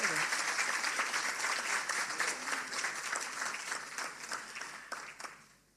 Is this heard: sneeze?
no